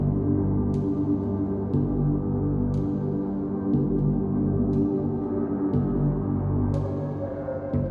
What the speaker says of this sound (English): you can hear what sounds to be the ticking of a clock